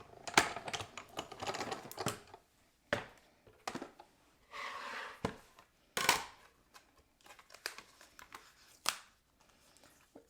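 A layered card runs through a die-cutting machine for a second pass, heard as close, irregular clicks, clatters and short rolling grinds separated by brief pauses.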